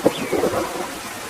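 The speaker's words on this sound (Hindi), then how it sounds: "पता नहीं ये बारिश कब रुकेगी।" A short burst of rain with a low rumble of thunder, fairly soft and distant, fading out within a second or two.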